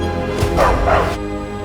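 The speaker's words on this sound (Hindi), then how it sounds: "तो कभी अचानक से घर में कुत्ता घुस आता है।" A dog gives a short whining bark-yelp indoors at home, a brief loud pair of cries over a steady background of music.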